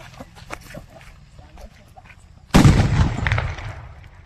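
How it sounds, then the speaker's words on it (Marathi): A sutli bomb firecracker explodes under a can with one sudden loud blast and a rumbling tail that fades over a second or two, following quieter moments of people talking nearby. "सुयोग आहे ना हे सुतळी बॉम्ब लावून आहे ना त्याच्यावर ही कॅन ठेवणार आहे"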